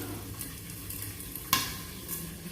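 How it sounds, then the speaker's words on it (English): Steady sizzling of kitri, an Indian vegetarian dish, frying in a pan, with a soft stirring scrape and one sharp clink of a utensil midway. "we're going to fry that for a bit"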